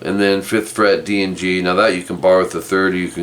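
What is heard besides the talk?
No everyday noises stand out.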